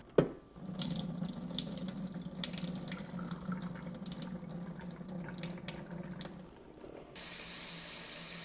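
Water gushes steadily from a tap into a metal pot of drained pinto beans for several seconds, with a clunk at the start and the flow changing near the end.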